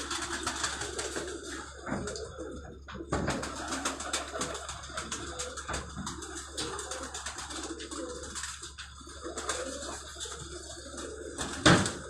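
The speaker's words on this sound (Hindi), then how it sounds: "ये कबूतर आया फिरोजपुरी।" Ferozpuri pigeons cooing on a rooftop in Punjab, soft repeated low coos mixed with wingbeats and background clatter, with a faint voice nearby and a sharp knock near the end.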